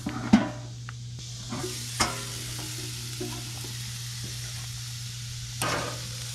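Ribeye steak seasoned with salt, pepper and garlic, sizzling on a two-burner camp stove outdoors at a campsite, a steady close hiss of frying broken by occasional sharp clanks and taps of the cooking utensils, under a low constant hum.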